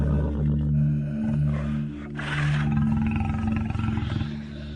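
A lion roars in a loud, deep, drawn-out call that swells and then breaks into rough, pulsing grunts near the end, close and alone with no talk.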